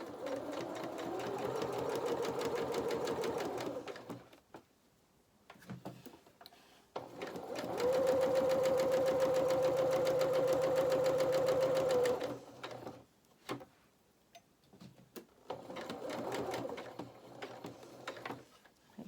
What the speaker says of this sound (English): 2 or 3 more stitches, and then I'm going to just reverse stitch just to reinforce that point